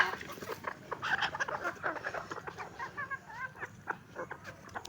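Chickens on a small bird farm cluck in a steady, busy jumble of short calls, mid-distance and moderately loud, with no one speaking over them.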